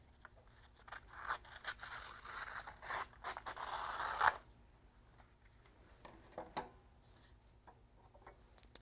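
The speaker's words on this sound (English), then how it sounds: "I'll go ahead and cut away my transfer" Scissors cut LaserMPrints Hard Surface heat transfer paper in a quiet room: faint crisp snips and rustling cluster over a few seconds, then scattered soft ticks and handling noises follow.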